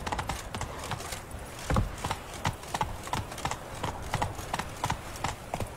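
Horse galloping in the video game The Witcher 3: Wild Hunt, a loud, steady rhythm of hoofbeats striking the ground up close, alone with no talking.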